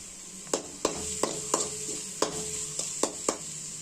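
Egg noodles tossed with packet masala in a hot pan sizzle softly while a utensil scrapes and taps against the pan in a quick, irregular rhythm of about nine strokes, close and clear.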